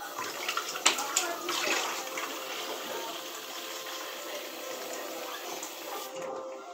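Water runs from a tap indoors in a steady, fairly quiet stream with a few small knocks early on, the flow cutting off near the end.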